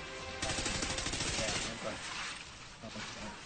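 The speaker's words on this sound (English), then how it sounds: "There's just like explosives and shit going off continually." Continuous gunfire and explosions from a Call of Duty Ghosts Blitz online match, with dense rapid shots and blasts rumbling on throughout under a loud, busy mix, and talk faintly underneath.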